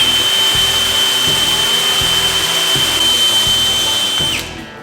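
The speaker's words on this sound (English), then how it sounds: "Now that we're locked in, we're ready to drill." A power drill whines at a steady high pitch, close and loud, drilling into Osage orange wood, with rhythmic grinding knocks underneath before the motor winds down at the end.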